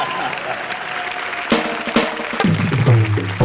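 Studio audience applause on a Hindi TV comedy show, Entertainment Ki Raat, bursting in over room noise, with several crisp clap surges and a louder swell near the end.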